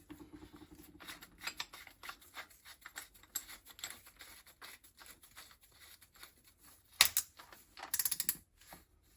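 Metallic clicking and ratcheting as an Allen key is fitted into and turned in the keyless chuck of a Draper cordless drill under repair, a near, irregular run of small taps with two sharper bursts toward the end.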